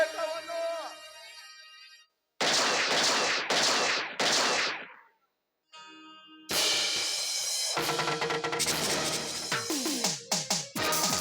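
Sharp gunshot bursts in a Kannada village social stage drama, several loud cracks with brief gaps, followed by dramatic music and background noise.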